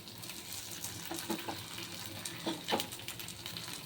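Paddu (panganalu) frying on low flame in a paddu pan, a soft steady sizzle throughout with a few light scraping clicks from a spoon turning them, close and fairly quiet.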